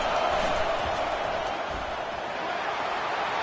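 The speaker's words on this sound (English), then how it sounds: "Listen to the crowd energy here in the early going." Stadium crowd at a Nebraska college football game sends up a steady, dense roar of cheering that fills the space from start to finish.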